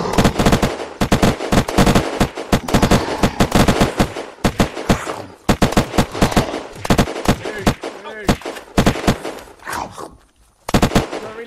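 Rapid gunfire in the video game Unturned, loud and close, with dense bursts of automatic shots and short pauses between volleys.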